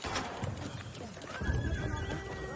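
A horse gives a drawn-out whinny over hooves clip-clopping nearby. The sounds are moderately quiet, with some background voices.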